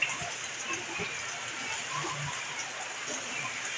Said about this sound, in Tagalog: dahil sa pagkalakas ng ulan